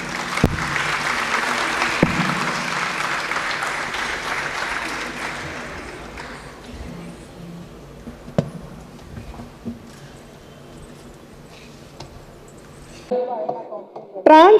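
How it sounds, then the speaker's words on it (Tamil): An audience at a stage program claps to welcome a group of girl dancers, sustained loud applause that gradually fades into quieter murmurs, followed by a few isolated sounds and a voice near the end. "உற்சாகமாக அந்த கேர்ள்ஸை கைத்தட்டி வரவேற்போம்."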